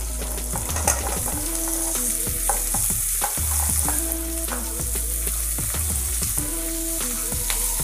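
Vegetables, green chilli and raw mango, stir-fried in a pan for beach-style sundal, a steady sizzle broken by repeated sharp scrapes and clacks of a spatula against the pan, close and loud with no talking.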